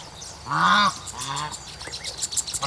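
Young Toulouse geese about a month old honk in a few loud, nasal calls close by, one long call standing out, followed by softer scattered honks and calls from the flock.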